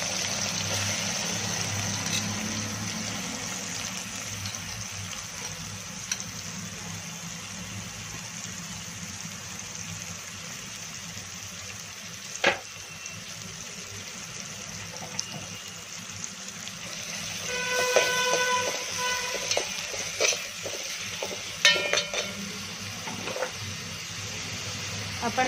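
Chopped onions and a pinch of asafoetida fry in hot oil for a curry, giving a steady sizzling hiss throughout with a few louder crackles and bursts partway through.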